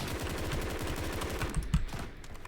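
Rapid automatic bursts from an AK-5C rifle in BRM5, a fast rhythmic stream of close, loud shots that breaks into a few heavier single cracks and tapers off near the end.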